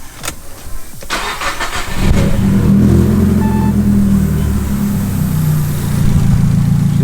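Nissan Silvia S15 from Japan, a turbocharged JDM car, cranks over and fires up, then settles into a loud, steady rumbling idle with light revving close by.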